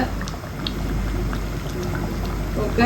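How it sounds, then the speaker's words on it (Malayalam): A pot of red snapper fish head curry bubbles steadily at a boil, a close, continuous simmering gurgle with no talking. "മീൻതല കറിയൊക്കെ ഒന്ന് തിളച്ചിട്ടുണ്ട്"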